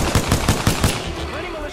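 Rapid automatic gunfire bursts in the shooter game Titanfall 2, about six sharp loud cracks in quick rhythm, then trailing echo and faint game sounds.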